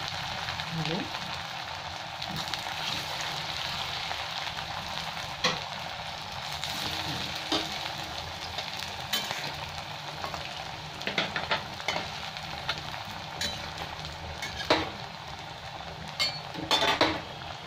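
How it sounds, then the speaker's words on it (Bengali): Steady sizzling of semolina snacks with potato filling deep-frying in oil, with occasional clinks of a utensil against the pan. "এইগুলো সব এরকম ভেজে, একটু টাইম লাগে ভাজতে"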